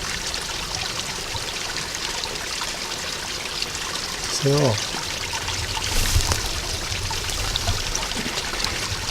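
Stream water trickles and pours steadily on open moorland, a continuous close wash of running water with a brief voice speaking over it partway through.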